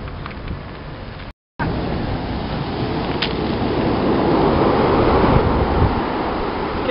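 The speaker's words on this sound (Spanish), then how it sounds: "¿Qué tal el sonido del mar?" Sea waves wash against a rocky cliff coast below a desert city in Lima, Peru, a broad roaring surf heard from above that swells louder toward the end, with a short silent gap early on.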